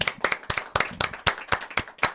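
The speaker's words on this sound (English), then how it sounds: "Why don't we go out with applause?" A small live studio audience at a radio show claps in a quick, loud, even rhythm of sharp, distinct hand claps, like a short burst of applause close to the mic.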